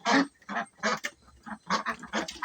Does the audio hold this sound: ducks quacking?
yes